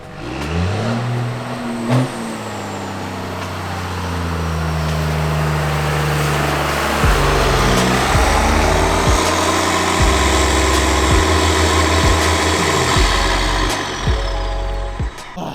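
Truck diesel engine in a runaway condition from a stuck fuel pump plunger or leaking injectors, idling then surging higher and higher toward redline, a loud sustained roar with rising pitch and brief ticks.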